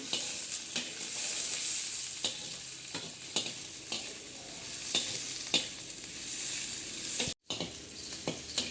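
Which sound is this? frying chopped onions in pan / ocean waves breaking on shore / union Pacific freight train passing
frying chopped onions in pan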